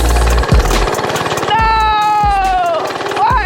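Minibike engine revving hard during a drag race against electric bikes, a loud, continuous buzzing roar with rapid pulsing and a rising then falling whine as it speeds up and shifts, close and dominant throughout.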